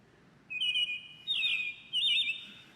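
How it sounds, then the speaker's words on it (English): A robin sings three bright, clear whistled phrases, each about half a second, against a quiet background. "Yes, that's a bird song. It's actually a robin captured in Apple Park."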